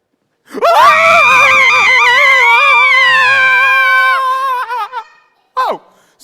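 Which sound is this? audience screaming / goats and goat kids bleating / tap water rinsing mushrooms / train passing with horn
audience screaming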